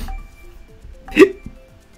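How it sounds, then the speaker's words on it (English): A single sharp hiccup pops out near the middle, close and clear, with quiet breathing and small background sounds around it. "I've got hiccups."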